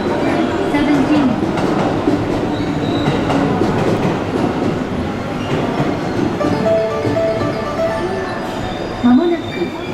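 A JR West Yamatoji Line train departing Tennoji station in Osaka, its loud, steady rolling rumble with faint squeals and clatter, under platform voices.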